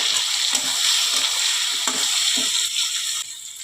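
A small tomato frying in a pan for a fish roe curry gives a loud, close, steady sizzle, with a few soft stirring knocks underneath.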